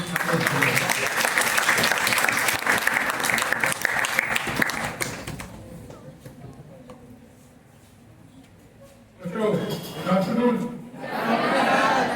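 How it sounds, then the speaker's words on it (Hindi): An audience claps loudly in applause to welcome a speaker at an educational event, sustained for about five seconds, then a quieter pause before another burst of clapping and crowd noise returns. "उनके लिए तालियों के साथ"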